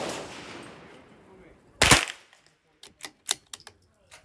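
Gunshots during practice for a shooting challenge: one loud close report near the middle after fading noise, then a quick run of sharp, quieter shots toward the end.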